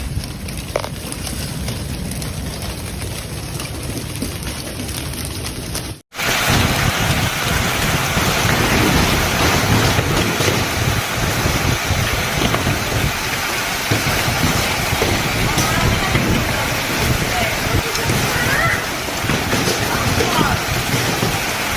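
Violent evening thunderstorm with hail over city streets and rooftops: a dense, steady roar of heavy rain and hail pelting surfaces, with gusting wind noise, continuous and loud after a brief cut partway through.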